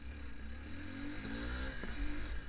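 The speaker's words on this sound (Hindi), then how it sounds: "अभी हम डालेंगे फर्स्ट गियर में, देखेंगे कितनी जाती है ये।" A Suzuki Gixxer SF250 motorcycle accelerates in first gear, its engine note climbing steadily in pitch over a couple of seconds, heard from fairly close with no talking.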